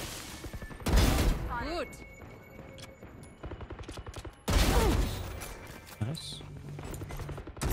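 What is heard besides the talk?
gunfire in the video game Valorant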